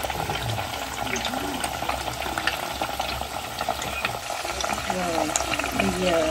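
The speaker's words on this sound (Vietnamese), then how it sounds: "Mình chiên thịt cho mấy đứa nhỏ, tại mấy đứa nhỏ với nô thì không thể thiếu thịt nữa." Meat fries in a pan with a steady, close sizzle and occasional stirring scrapes, a continuous crackling bed under faint background voices.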